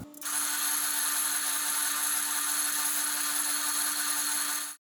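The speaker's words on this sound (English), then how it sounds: "we'll tape it down and drill through the holes just like we did on the pickguard" A drill boring through holes into a Stratocaster guitar body, a steady, loud, high whirring drone that starts abruptly, runs for nearly five seconds and stops cleanly, with no talk.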